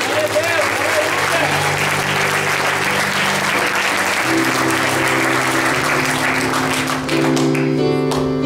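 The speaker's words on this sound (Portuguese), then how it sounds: "Os que desejam ser escolhidos por Jesus, um aplauso a Ele, um aplauso a Ele." Loud, sustained applause from a large church congregation in Ireland fills the whole stretch, with a preacher's voice and musical tones underneath.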